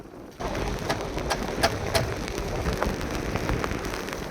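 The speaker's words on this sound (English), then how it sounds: "now it started raining" Steady rain patters on a surface, a dense continuous hiss with occasional louder drops, no voices.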